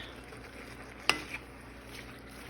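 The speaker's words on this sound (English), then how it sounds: "I'm gonna put that in there, stir it in, and let it wilt" Chopped spinach stirred into a pan of vegetable succotash, a faint low sizzle under one clear clink of a utensil against the pan, quiet and close.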